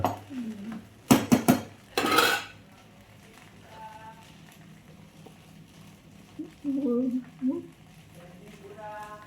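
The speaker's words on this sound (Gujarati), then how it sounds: "અમારા રેખાબેન ખીચડી ખીચડી ખીચડી વઘારી રહ્યા છે" Khichdi is tempered in a metal pot at home, with a quick cluster of sharp clanks and scrapes early on, then quieter stirring while someone talks nearby.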